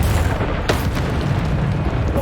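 A Bombarda spell explodes in the Hogwarts Legacy video game, giving a sharp blast that sits over a dense, continuous game soundscape with heavy low rumble throughout.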